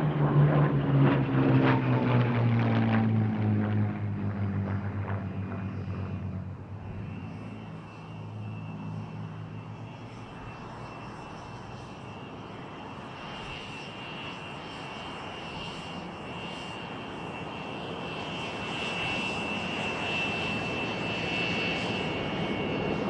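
A Hawker Hurricane and a Hispano Buchon, piston propeller fighters, pass at an air show, their engines droning loud and close at first, then receding into a steadier, more distant roar.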